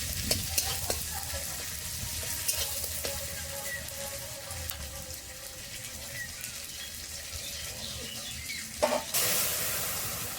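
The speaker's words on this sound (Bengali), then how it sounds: "এবার আমি ডালটার উপরে ঢেলে দেবো।" Fried tomato tempering poured over cooked moong dal in a kitchen makes a continuous close sizzle with stirring noises, then a sharp louder burst of hissing as the hot oil hits the dal near the end.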